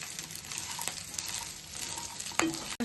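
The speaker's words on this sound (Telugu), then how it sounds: "స్టవ్ హై ఫ్లేమ్లో పెట్టుకుని ఇలా కలుపుకోవాలి." Cauliflower pieces for gobi 65 stirred in a pan over a high flame, giving a continuous frying hiss broken by a few scraping, clinking strokes of the spoon against the pan, close up and with no talk.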